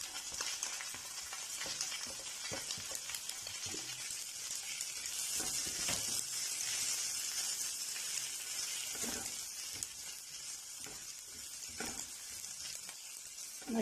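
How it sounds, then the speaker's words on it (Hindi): Capsicum, onion and spring onion sauté in a hot pan with a steady, close sizzle, punctuated by frequent scraping stirs and clatter, without talk. "हमारी सब्जियां जो है वो 2 मिनट के लिए हमने इनको सौते किया हो गई हैं"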